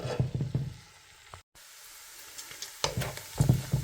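Bacon sizzling in a pot and being stirred, a close hiss with scraping and clattering stir strokes, a brief dropout partway through, no voices.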